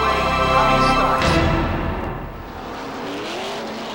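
Hobby-class stock cars roaring off the start of a heat at USA Speedway, a loud engine blast near the front that fades into a farther, thinner drone of cars moving away.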